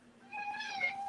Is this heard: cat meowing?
yes